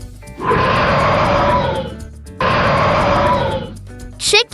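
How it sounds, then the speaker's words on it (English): A lion roars twice in long, loud, rough bursts separated by a short pause, followed by a brief higher sound at the end. "Lion."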